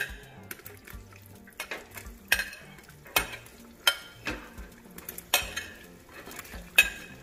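Plantain pieces frying in oil, a soft steady sizzle punctuated by sharp clinks and scrapes of a utensil against the pan at irregular intervals, close and fairly quiet, with no talk.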